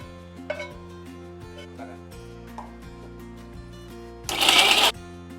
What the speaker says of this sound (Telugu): ఇది కూడా మిక్సీ చేసుకోవాలండి